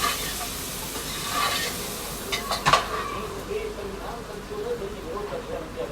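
Spices, including turmeric and coriander powder, sizzle softly in hot oil for a rajma tempering, with a steady faint hiss broken by scattered metal clinks of a spoon against the pan.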